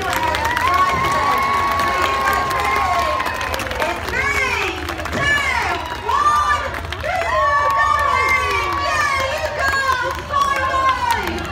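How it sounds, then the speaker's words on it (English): Crowd at a sea lion show at West Midland Safari Park clapping and cheering loudly and steadily, with children shouting and excited voices over the applause throughout. "Lots of clapping, lots of cheering."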